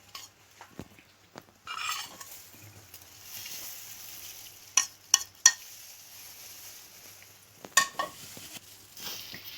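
A spoon stirs salt, turmeric, paprika and chili together in a bowl, with scattered soft scrapes and several sharp metallic clinks against the dish.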